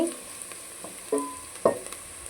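Onions cooking in a pan give a faint background sizzle, broken by a few sharp scraping and clinking stirs against the pan.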